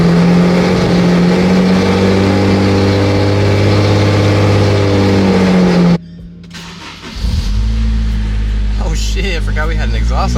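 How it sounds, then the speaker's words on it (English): Honda S2000 car with an aftermarket exhaust: a loud, steady engine drone that cuts off abruptly, then roars back with a deep, revving note, close to the microphone. "Shit, I forgot we had an exhaust on this thing."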